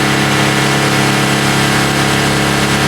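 Mercedes Sprinter van diesel engine held at high revs around 4,000 RPM, a steady loud drone with no breaks, running with low power and DPF trouble.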